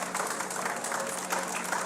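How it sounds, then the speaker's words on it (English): Audience applause at a live morning talk-show stage event, a short, fairly faint, dense patter of clapping with no speech. "Big applause."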